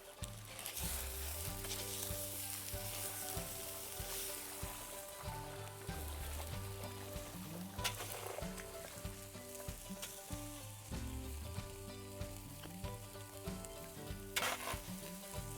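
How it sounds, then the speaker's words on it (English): Fish fries in bacon grease with potatoes, bacon, onions and garlic, producing a steady, fairly quiet sizzle and crackle throughout, with a few stirring scrapes and no talk. "We have some potatoes, bacon, onions, and garlic going in a little bit of extra healthy bacon grease. We're gonna add our fish."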